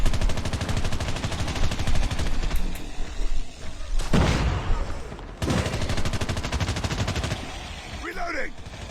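RPD machine gun fire in a mobile shooter game, rapid sustained bursts of automatic shots with brief pauses, loud and close, mixed with other game gunfire and occasional voices.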